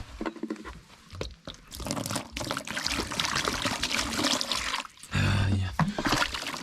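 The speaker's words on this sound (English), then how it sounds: "I want to wash my face here" Water pours and trickles steadily for washing a face outdoors in a village in central Kenya, a continuous splashing wash with a louder gush near the end, close to the microphone.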